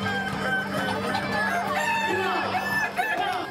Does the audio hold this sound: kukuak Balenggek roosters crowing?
yes